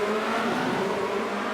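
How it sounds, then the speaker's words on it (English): Formula Renault racing cars at Virginia International Raceway in iRacing, engines droning loud and steady with a rising rev tone as the field gets underway, no talk over it. "Revs are rising here at Virginia"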